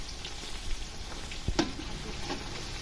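Chopped onion frying in hot oil with a cumin tempering, a soft constant sizzle with a single sharp tap of a utensil midway, heard close and fairly quiet without speech.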